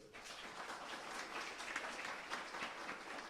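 Audience applause at a spiritual talk, a faint, steady wash of many hands clapping that holds evenly for a few seconds with no voices over it.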